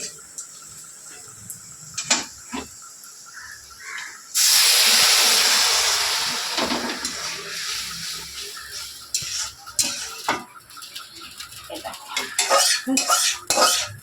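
Fried onions tipped into a simmering fish curry in a metal pan, giving a sudden loud sizzling hiss that fades over several seconds, framed by clinks and scrapes of a spoon against the pan.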